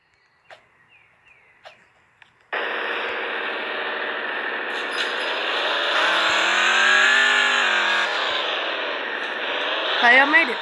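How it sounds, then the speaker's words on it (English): A car in the Roblox game Homestead starts with a few clicks, then a steady synthetic engine drone rises and holds for several seconds, loud and close, ending in a brief squeal. "Okay, I'm gonna get in my car and drive."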